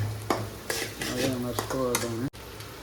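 Egg rice being stirred and mixed in a frying pan, repeated metal spatula scrapes and clanks against the pan over a sizzling background, close and lively, with a few tonal squeaks and no talking.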